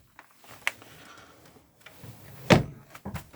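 Door of a 2013 Sprite Alpine 2 caravan, heard close and quiet: a light click, then a louder latch thud and a short rattle near the end, with no talking.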